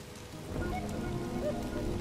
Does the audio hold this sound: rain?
yes